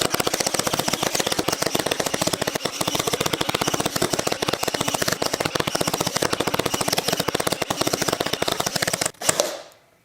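Pin nailer driving pins into a wooden door skin, a rapid, continuous string of sharp mechanical clicks and pops firing nonstop, loud and close, ending with a final burst and sudden stop.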